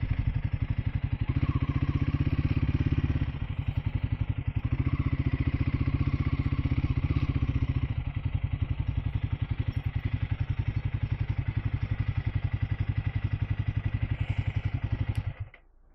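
A motorcycle engine idles close by with a steady low throbbing rumble, swelling slightly a couple of times before cutting off at the end as the bike is parked.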